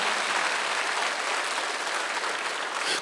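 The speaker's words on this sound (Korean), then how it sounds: "박수 크게 치시라요." At a Sunday church service, the congregation applauds loudly as a sustained, dense clatter of many hands that stays even throughout, then swells sharply at the very end.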